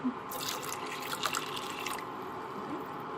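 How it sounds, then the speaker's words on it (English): Water poured into a pan of shrimp caldine curry, a brief close splashing pour about a second long against a low kitchen background. "I'm going to add a bit of water."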